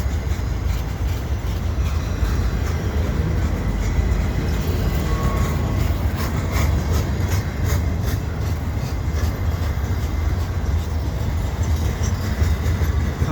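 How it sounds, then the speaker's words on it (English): Two CN freight trains passing at once on a winter afternoon at a commuter station, a steady loud rumble of rolling cars with faint clickety-clack running the whole time, no voices. "two trains at once, pretty much"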